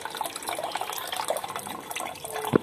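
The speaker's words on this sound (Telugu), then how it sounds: "నెక్స్ట్ పులుసు పోయాలండి." Tamarind water is poured into a fish curry pan already holding ginger paste, mint and curry leaves: a steady liquid pour and splash, with a short louder splash just before the end.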